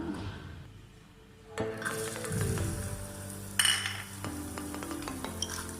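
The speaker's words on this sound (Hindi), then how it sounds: "अब हम इसमें मेवे जो है भून लेंगे थोड़ा सा" Nuts and dry fruits tossed in two spoons of ghee in a pan for sheer khorma, with clinks and scrapes of a spoon against metal, a soft sizzle underneath and a sharper clatter midway.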